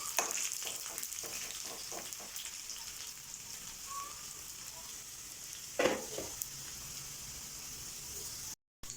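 Kadachakka (breadfruit) curry with chilli and curry leaves sizzles steadily in a pan, with light stirring scrapes and a brief clatter midway, close and continuous.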